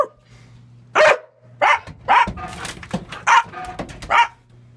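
A dog barks about six times in short, loud bursts spaced roughly half a second apart, close by, with a low steady hum underneath.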